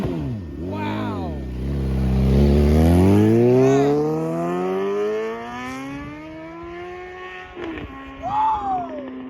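A tuned 2020 Suzuki GSX-R 750 sportbike engine revs hard nearby, its pitch sweeping sharply up and down before settling into a long climbing wail and then dropping off. Short blips and rustling follow at the end.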